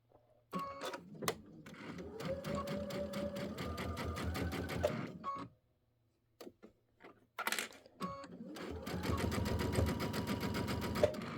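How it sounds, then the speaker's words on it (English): A sewing machine stitches the flange of a table runner in two bursts, a close, rapid rattling whir separated by a short pause with a few clicks and handling sounds between. "I'm going to sew it down here first just to make sure it looks good"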